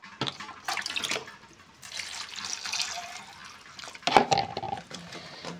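Spiny gourd (kantola) being washed under a running tap, a steady splashing stream of water with sloshing and handling bursts, close and loud with no talk.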